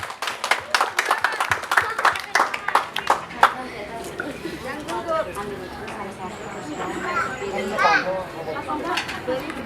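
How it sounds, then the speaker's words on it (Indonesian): An audience claps for a child contestant at a children's scripture-reading competition, a burst of loud, rapid hand claps over the first few seconds that fades into children's chatter and an adult speaking. "Mari kita berikan tepuk tangan."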